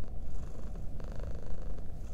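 A cat purrs steadily while lying on its back having its belly rubbed, a close, continuous low rumble that stays even throughout with no voices.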